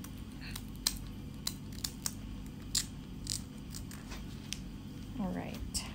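Scissors snip the edges of a thin isomalt sugar lily petal, giving a series of small, sharp clicks and crunchy cuts close by over a quiet background.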